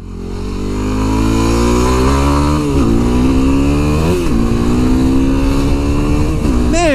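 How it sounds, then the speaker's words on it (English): Small motorcycle engine revving hard while riding off-road, a loud, steady drone that rises and falls in pitch through several gear changes and throttle swells, with wind rush throughout and no talk. "this little bike is fun as hell"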